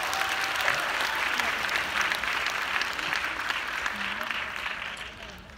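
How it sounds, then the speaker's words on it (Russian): Sustained audience applause fills a hall at a 2017 entrepreneurs' congress, steady and dense throughout before tapering slightly at the end, with no talk over it. "Аплодисменты Руслану."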